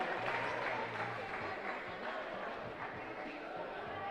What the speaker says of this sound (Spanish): Un aplauso para Maroa.